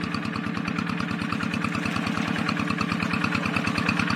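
A Yanmar walk-behind tractor's small single-cylinder engine idles steadily with a fast, even chugging pulse, close and continuous throughout, no voices.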